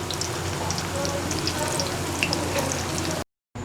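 Chicken kafta kebabs shallow frying in oil in a pan, giving a steady close crackling sizzle with tiny pops throughout, broken by a brief silent cut near the end.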